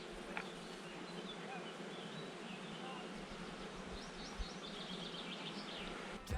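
Bees buzz on a mountainside in the Velebit range, a faint steady drone close by, with occasional soft chirps of birds in the background and no talking over it.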